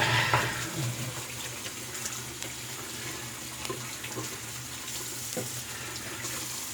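Running tap water rinsing a shaving brush at a bathroom sink, a steady, moderate splashing flow with a few soft knocks and no speech.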